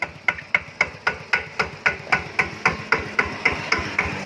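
A Kubota RT12 diesel tractor engine idles slowly with a steady knocking beat, about three heavy thumps a second, loud and close with nothing else heard.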